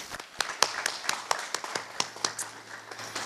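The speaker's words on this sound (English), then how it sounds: "Can we give them another round of applause?" Audience applause at a Black History Month program, distinct individual claps from a modest crowd at close range, uneven and sparse rather than a dense roar, with a low hum beneath.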